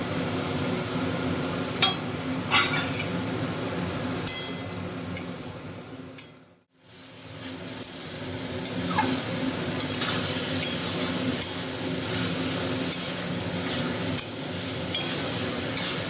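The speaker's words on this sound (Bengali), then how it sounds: "মোচাটা দিয়ে আমি এবার মশলার সঙ্গে ভালো করে কষে" Chopped banana flower is stir-fried with spices in a pan for a Bengali prawn dish, giving a steady close sizzle with scraping spatula strokes and clinks, a brief lull midway, and no talking.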